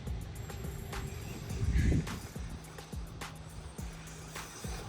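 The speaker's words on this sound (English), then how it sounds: "Let's get a 6S going across the field here." A Traxxas 6S Mini Maxx RC truck on paddle tires runs across a field at about half throttle, giving a faint, distant electric motor whine that rises in short repeated pulses over steady outdoor background noise.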